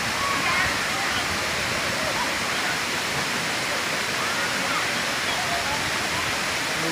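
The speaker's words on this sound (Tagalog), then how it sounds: "Ayan ang Batlag Waterfalls." Batlag Waterfalls in Tanay, Rizal, a dense, steady roar of falling water that stays loud and unbroken throughout, with a voice faintly mixed into the rush.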